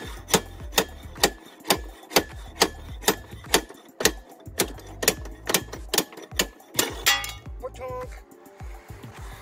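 A wheel bearing on a 1983 Honda ATC200 three-wheeler being spun, giving a rhythmic clicking that slows steadily over about seven seconds before a jangle of metallic rattles.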